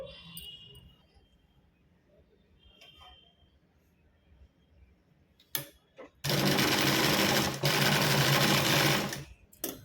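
A sewing machine stitching folded cloth for a hip belt: after quiet handling noises and a couple of brief clicks, the motor starts a loud, rapid, close mechanical whir for several seconds before stopping abruptly.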